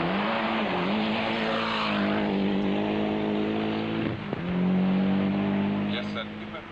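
A Mitsubishi rally car driven hard on a stage of the 1991 International 3 Städte Rallye: a loud, close engine revving and shifting with tire squeal, under a commentator's voice.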